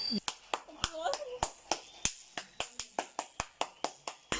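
Hands clap in a quick series of sharp, close claps at a fairly even rhythm, with a few voices chattering between them in a home setting.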